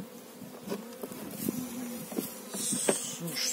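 Carniolan honey bees droning in an opened hive, a steady low buzz with individual bees flying close past at varying pitch, fairly faint and continuous throughout.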